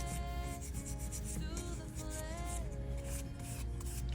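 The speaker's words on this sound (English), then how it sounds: "So I'm just using my swipe solution." Cotton pad soaked in cleansing swipe solution rubbing across gel-coated nails to clear the tacky base layer, a soft continuous scrubbing heard close up and steady throughout, with no voices.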